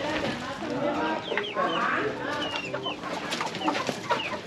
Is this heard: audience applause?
no